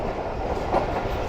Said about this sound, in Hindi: मज़ेदार ट्रैक साउंड के साथ ट्रेन हमारी आगे बढ़ रही है